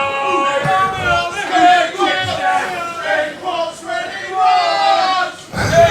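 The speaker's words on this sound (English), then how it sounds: "it got the crowd going" A crowd at a pool match cheers and shouts after a confident pot, loud, sustained waves of voices with one voice rising above the rest.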